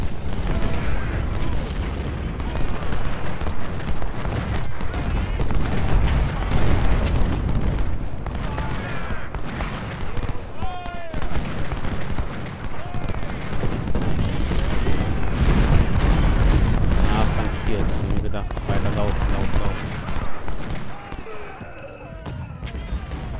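Cannon artillery fire booms repeatedly amid dense battle noise and musket volleys in the Civil War strategy game Ultimate General: Civil War, at the Battle of Stones River, with someone talking over the din.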